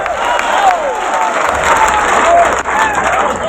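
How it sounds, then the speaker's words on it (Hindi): A crowd at a Congress party political rally in Panna applauds loudly and steadily, with cheering and a few whistle-like tones rising over the clapping throughout. "सिद्धार्थ जी जरा तालियां बजाओ"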